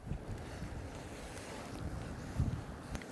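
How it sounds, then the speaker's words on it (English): Wind buffets the microphone on a boat out on the water while fly fishing, a steady low rumble of gusts and hull noise with a brief louder thump near the end, no one speaking. "Wind's getting up a bit now."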